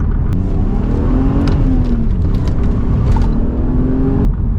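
A 1997 BMW Z3 engine with a homemade cat-back exhaust revs hard under full throttle, a loud continuous droning roar with a rising pitch, heard close with no speech.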